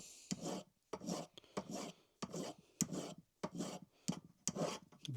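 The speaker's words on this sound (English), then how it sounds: "If you turn the ring towards you when you're filing like that, you can cover more surface area." A hand file rasping across a textured silver ring in about ten steady back-and-forth strokes, close up and fairly quiet with brief pauses between strokes.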